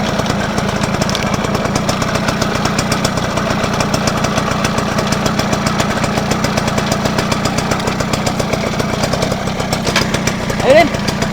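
A motorcycle engine runs at a close, loud, steady idle, its fast even chugging pulse continuing unbroken throughout.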